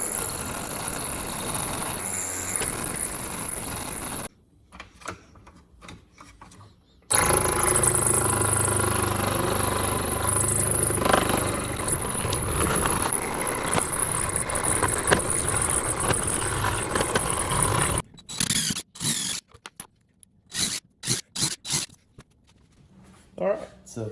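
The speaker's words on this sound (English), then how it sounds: "go ahead and just get a blade that will fit the hole that you're gonna make and go ahead and scroll saw" A scroll saw cutting wood for a toolbox buzzes in long, loud, continuous stretches, with a pause in the middle and short stop-start bursts near the end.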